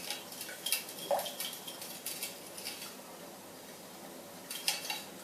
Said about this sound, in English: I can see there's a little bit of cacao butter which hasn't melted yet, so I'll just give it a little stir just to encourage it